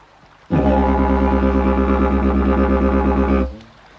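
A single steady didgeridoo drone lasts about three seconds, with a light quick pulsing running through it that imitates a small joey hopping, then fades out.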